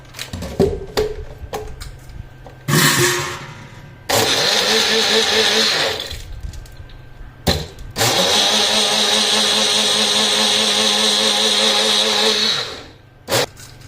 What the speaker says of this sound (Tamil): வந்து நம்ம மிக்ஸியில போட்டு அரைச்சிடலாம்